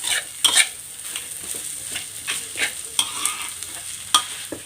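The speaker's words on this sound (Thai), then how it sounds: "เราก็ผัดคลุกเคล้าให้เข้ากันกับพี่น้องเด้อ" Rice stir-fried in a pan with fermented fish (pla ra) and fried dried fish, heard as a continuous sizzle with repeated scraping stirs and occasional sharp clinks of the utensil, close by.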